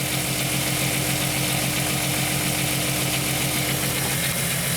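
A 1998 VW Eurovan engine idles with a misfire, a close, steady mechanical drone with a faintly uneven, shaking pulse running through it, no talking.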